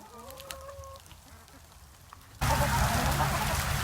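Backyard chickens in a winter compost run cluck and squawk faintly while they eat. A sudden wash of steady hiss swamps them midway, sounding like freezing rain starting.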